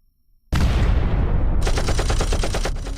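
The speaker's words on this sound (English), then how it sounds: "the sounds of explosions and gunshots could be heard from outside" A sudden loud blast gives way to rapid bursts of gunfire, dense and continuous, close and intense.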